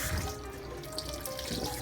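Cold water running steadily from a kitchen tap while soaked bulgur is rinsed for kibbeh, a close, constant splashing flow with no talking.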